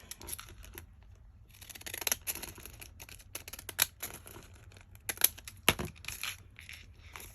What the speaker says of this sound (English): So I'm going to cut the tops off of these.